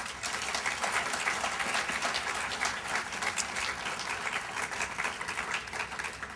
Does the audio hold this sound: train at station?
no